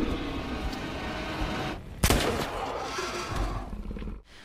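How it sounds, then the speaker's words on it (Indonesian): A single sharp gunshot cracks out in a film scene as Luke fires at the Jotun monster, loud and sudden against a rumbling, tense background score, followed by continued low menacing ambience. "Luke mencoba menembak monster tersebut yang kemudian mengejarnya."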